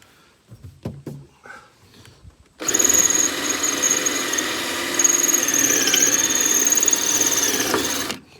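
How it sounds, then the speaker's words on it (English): Electric drill boring out screws on a door of a 1967 Plymouth Belvedere, a few faint handling knocks followed by a sudden loud, steady high-pitched whine of the drill running for about five seconds before stopping. "what I'm going to do is just drill this out"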